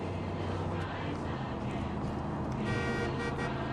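Car horn honking in the video game Far Cry 5, a steady blaring tone layered over continuous engine and road noise, loud and close throughout.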